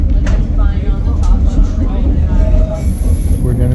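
A steady close rumble of the White Pass railway train rolling along the mountain track, with occasional rattles and a faint metallic squeal over the continuous low drone.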